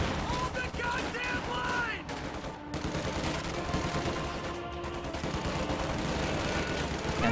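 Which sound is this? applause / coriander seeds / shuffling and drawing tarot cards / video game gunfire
video game gunfire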